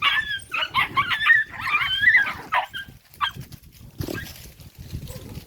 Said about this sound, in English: in the background we have some dog fights here in the background